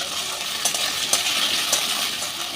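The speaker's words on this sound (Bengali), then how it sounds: "দিয়ে আলুটাকে আমি একটু ভেজে নেব" Diced potatoes sprinkled with salt fry in hot oil with a steady, close broadband sizzle, broken by a few faint stirring scrapes and clinks; no one speaks.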